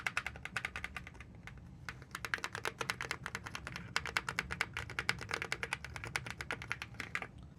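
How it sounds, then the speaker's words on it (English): Fast typing on an AULA AG75 Pro gaming keyboard, a dense run of crisp, close key clicks in an uneven quick rhythm with no voices. "This is what the keyboard sounds like."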